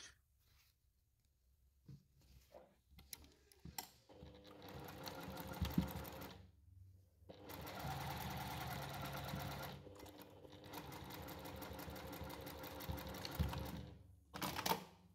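A sewing machine topstitches the raw edges of a fabric bag in several bursts of rapid, steady whirring, separated by short pauses and faint handling noises.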